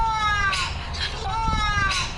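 A person's voice imitates a cat, drawing out two or three whiny meows in quick succession, close and fairly loud.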